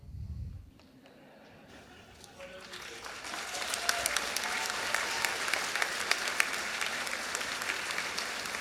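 Audience at a Knights of the Golden Horseshoe ceremony breaks into applause after a brief voice, the clapping swelling from light to full and steady for several seconds.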